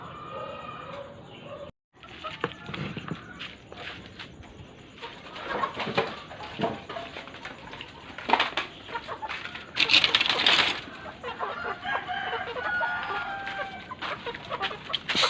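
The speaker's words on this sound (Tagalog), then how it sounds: "Pakain tayo ng manok muna." A flock of chickens clucks and squawks close by while being fed, with busy scratching and rustling sounds around them.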